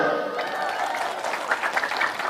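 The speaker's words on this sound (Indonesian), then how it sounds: "Tepuk tangan dulu." Audience applause at an Indonesian religious talk, a sustained wash of many hands clapping at moderate level, steady with a few louder bursts, filling the whole stretch.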